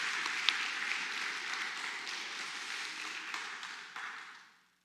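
Church congregation applause during a Sunday service, a steady wash of many hands clapping from across the room that holds for several seconds and then fades away.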